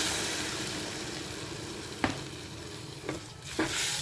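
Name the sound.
water poured into hot masala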